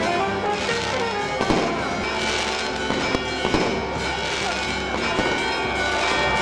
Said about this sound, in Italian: si è svolto un suggestivo spettacolo di fuochi pirotecnici in Piazza Umberto